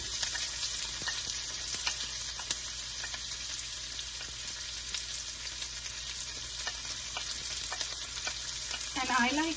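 Garlic, chopped green chilies and onions sizzling in a wok on high flame for street-style veg chowmein, a loud continuous frying hiss with occasional stirring scrapes and a spatula clatter near the end.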